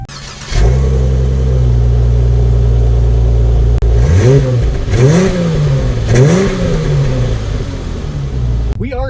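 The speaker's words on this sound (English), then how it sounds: "let's go into a quick drive portion to see how the new 2019 Charger drives." A 2019 Dodge Charger SXT AWD with a V6 drives with a steady, loud low engine drone; the revs climb and fall in several rising sweeps, like repeated accelerations through the gears.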